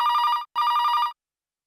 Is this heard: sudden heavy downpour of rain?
no